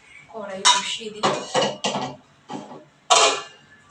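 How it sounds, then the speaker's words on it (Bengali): A kadai (wok) is set down on a kitchen stove, giving several sharp metallic clanks and knocks of cookware, close and fairly loud, spread over a few seconds with short gaps between them. "কড়াই বসিয়ে দিই।"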